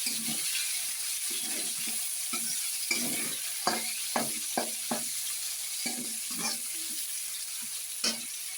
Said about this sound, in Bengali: পেঁয়াজগুলো একটু ভালো করে নেড়ে নিলাম